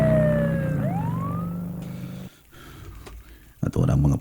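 A police car siren wails in a falling and rising sweep, loud and close at first, then cuts off abruptly, leaving a quieter stretch before a burst of other noise at the end.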